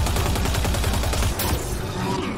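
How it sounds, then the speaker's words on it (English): Pulse gun fire in the video game Mass Effect Andromeda, a fast rhythmic burst of repeated loud shots, then a sharp shift to chaotic combat noise. "Shit, they got one of those pulse guns"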